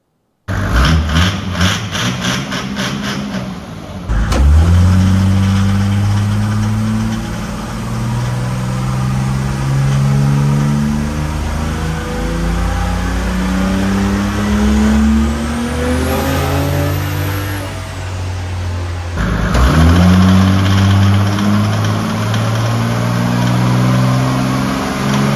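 A turbocharged Mercedes diesel engine fitted in a 1952 GMC truck runs loud and close with a steady, deep rumble, revving up through a rising whine and dropping back, then revving again near the end.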